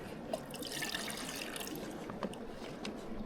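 Water pours into a cooking pot at a solo wild camp, a faint, continuous trickle and splash with small drips scattered through it and no voices.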